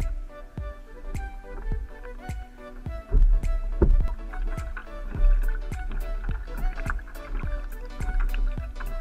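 Hobie Adventure Island kayak moving slowly through narrow back channels behind a lake, with a steady rhythmic series of close paddle or pedal-drive strokes and water splashes repeating about every half second.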